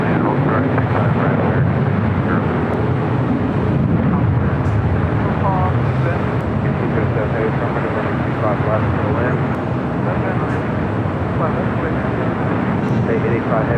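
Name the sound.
Cathay Pacific airliner at LAX airport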